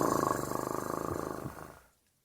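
A cat purrs steadily in a quiet room, a soft rhythmic rumble pulsing at close range for about two seconds before fading into silence.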